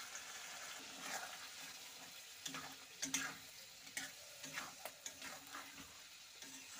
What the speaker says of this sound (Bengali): তো এবারে আমি মশলাগুলো দিয়ে একসাথে একটু কষিয়ে নেব।